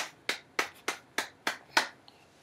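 A baby claps its hands six times at a steady, even rhythm, each clap sharp and close, with no talk over it.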